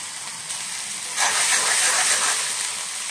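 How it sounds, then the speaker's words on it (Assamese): Onions fry in hot oil on high flame for an egg gravy, giving a loud, steady hiss that swells into a stronger sizzle partway through and holds. "এতিয়া হাই ফ্লেমতে বনাইছোঁ অকণমান 3 মিনিটমান"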